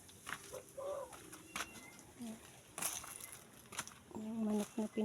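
Backyard chickens cluck and coo nearby in short, scattered bursts, some calls fairly clear, while a person speaks intermittently.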